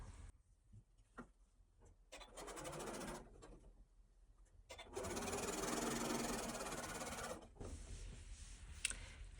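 A sewing machine stitches fabric pieces along a diagonal seam for a Christmas table runner, running in a few separate bursts with a longer, louder stretch in the middle and pauses between.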